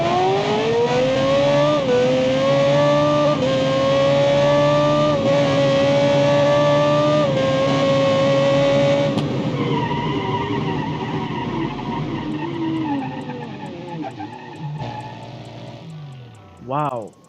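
A powerful supercharged car engine with nitrous screams hard up through the revs in the Automation racing game, a loud rising whine with gear shifts that fades into a lower drone and ends in a brief burst near the end.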